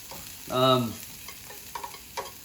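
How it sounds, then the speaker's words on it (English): Curry powder toasting in a pan for sausage tikka masala, a soft sizzle broken by a harmonic voiced tone early on and a few light scrapes and taps of stirring. "we want to put this in the pan before we add any of the liquid because we really want to get this slightly toasted"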